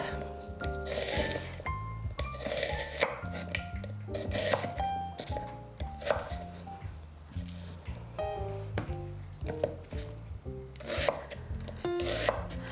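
A knife slices onions into half-inch rings on a cutting board, steady rhythmic chops and soft scraping repeating close by at moderate volume, with background music underneath.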